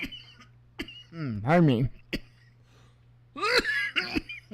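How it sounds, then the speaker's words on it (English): A man coughs in a few sharp bursts and clears his throat, close and loud, with brief speech between the coughs and a steady low hum underneath. "I just all of a sudden started coughing."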